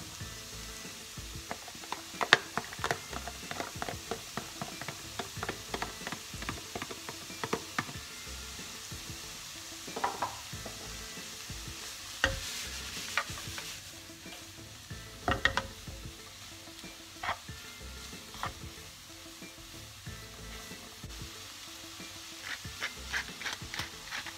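Zucchini sizzle in a hot pan while being stirred, a steady soft frying hiss broken by frequent scraping and clattering stir strokes, heard close with no talk.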